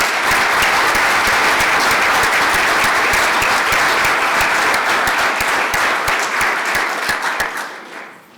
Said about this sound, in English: Let us give a round of applause to all those students